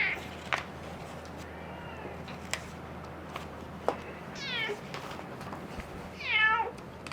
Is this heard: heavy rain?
no